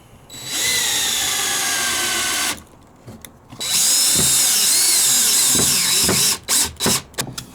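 A power drill whirs loudly for a couple of seconds, pauses, then runs again at higher pitch before stopping in short bursts, driving screws into wooden boards close by.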